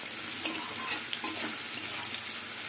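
Crushed garlic frying in a pan with a steady, close, bright sizzle and light stirring scrapes throughout.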